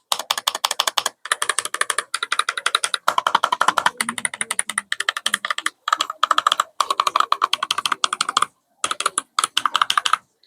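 Rapid, close-up clicking of keys on an MKESPN W910 12-key wireless macro keyboard, typed in quick bursts with short pauses between runs.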